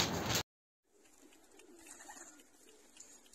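Pigeons coo softly in a loft after a short loud burst and a moment of near silence, the gentle calls repeating over a low steady background.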